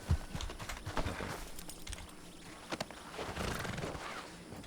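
A horse whinnies and its hooves clop in short scattered bursts at moderate distance, with no talking.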